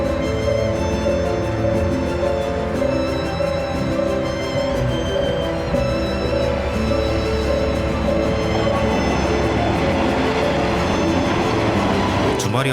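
A JR train pulls into Nishi-Oyama station, Japan's southernmost JR stop, in Kyushu, with a steady loud mechanical hum and low rumble lasting throughout and a rising rattle toward the end. A voice talks over it.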